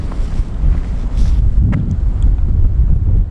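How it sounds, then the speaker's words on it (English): Strong, gusty wind buffets the microphone outdoors at a campsite in Pilot Knob State Park, a loud continuous low roar with brief surges and no talk. "the wind is just brutal today"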